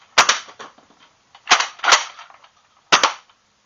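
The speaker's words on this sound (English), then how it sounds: "I will do a quick little firing demo." Nerf Elite Alpha Trooper toy blaster fires darts in three separate bursts, each a sharp loud snap with a quick follow-up shot, separated by short pauses.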